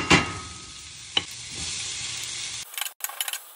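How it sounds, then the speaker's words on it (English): Tomatoes tipped into a hot frying pan with onion and Brussels sprouts for a breakfast scramble, giving a broad steady sizzle with sharp stirring scrapes near the start and around one second, then a clattering stir near the end. "now we're gonna add the tomatoes."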